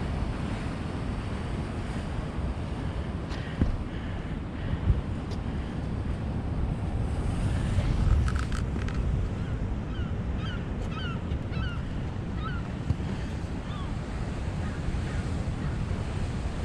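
Ocean waves wash against rocks near a tide pool in a continuous roar, with wind buffeting the microphone and faint bird calls in the distance.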